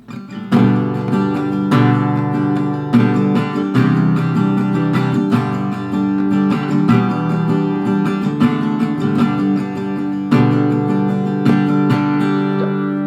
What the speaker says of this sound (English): you do 8 down strums and then also 8 up strums,